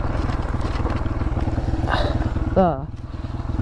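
A Honda CRF 150F dirt bike engine revs and chugs in a steady pulsing rhythm nearby, with a brief louder rising rev midway, while someone talks over it.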